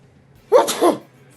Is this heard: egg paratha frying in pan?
no